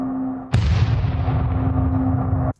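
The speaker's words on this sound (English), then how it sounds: "This is the explosion track, and I stopped that hollow ring just short enough to allow the explosion to happen" A cinematic explosion effect hits suddenly after a steady hollow ringing tone, a loud broad blast that holds with a rumbling low end for about two seconds before cutting off abruptly.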